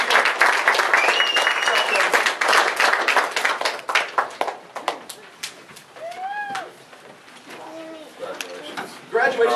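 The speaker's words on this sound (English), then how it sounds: "One last round of applause for the whole class." A graduation audience at Pilot Point's 2013 ceremony claps for the whole class, loud dense applause that gradually thins into scattered claps, with voices and a few cheers or whoops rising over it near the end.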